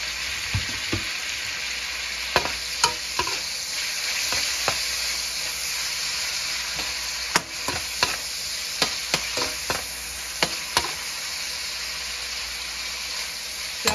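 Shrimp sizzle steadily in a hot frying pan, with repeated sharp clicks and scrapes of a utensil stirring them throughout.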